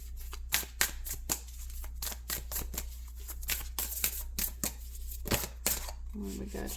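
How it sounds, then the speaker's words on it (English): A stiff tarot card deck is shuffled by hand, giving a run of crisp, close riffling snaps and flicks at an uneven rhythm, with a low steady hum underneath. "This deck is kind of hard to shuffle."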